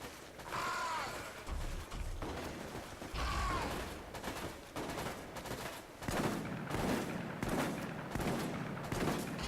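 Riot shotgun blasts and mechanical reload clacks during a boss fight in Resident Evil: Operation Raccoon City, a handful of heavy spaced shots with creaking, ratcheting handling sounds between them, mid-distance and without speech.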